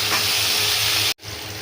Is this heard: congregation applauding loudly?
no